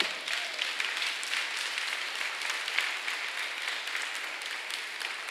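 Steady applause from a church audience, a dense wash of many hands clapping at an even level throughout, with no voices standing out.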